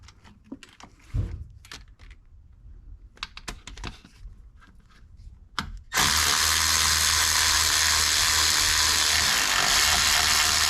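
Ratchet wrench clicking in short irregular bursts while bolts are tightened during oil pressure sensor reassembly on a Maserati Ghibli, close and fairly quiet, then a sudden loud steady broadband whoosh takes over for the rest.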